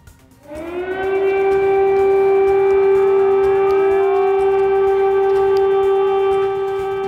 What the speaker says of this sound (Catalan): Les sirenes d'atac aeri sobre les principals ciutats del país